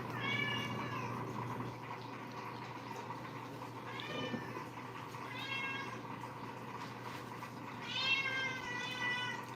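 A cat meows several times in separate drawn-out calls, fairly faint against a steady low hum and some background clatter, with a louder pair of meows near the end.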